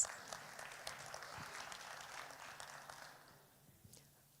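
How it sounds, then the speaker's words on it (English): Applause from a business-forum audience: soft, somewhat distant clapping that thins out and fades over a few seconds. "Let's give a big round of applause."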